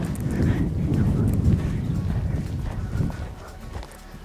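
A horse canters during a jumping lesson, its hooves thudding on the ground in a steady rhythm, close and loud, with wind buffeting the microphone.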